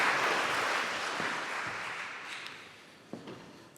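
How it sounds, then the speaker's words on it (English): Applause from a conference audience for a speaker at a public service innovation event, a moderate wash of clapping that gradually fades and thins out, ending with a few scattered taps and knocks. "could we have applause for Adrian"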